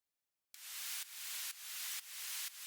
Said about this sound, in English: Maybe we can add some effects. I would like the vinyl distortion for that.